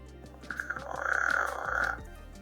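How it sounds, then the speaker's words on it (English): An upset giant leachianus gecko gives a raspy, rising-and-falling growl lasting about a second and a half, fairly faint and close, over a low background hum. "That's the sound of an upset leachianis."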